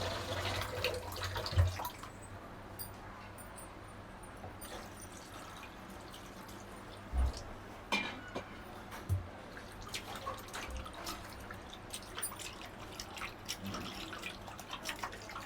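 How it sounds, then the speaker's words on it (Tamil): Raw prawns being rinsed in water in a home kitchen, with soft drips and splashes and a few sharper clatters against a quiet background, no talk. "தண்ணி ஊற்றி நல்லா வாஷ் பண்ணி எடுத்துக்கலாம்."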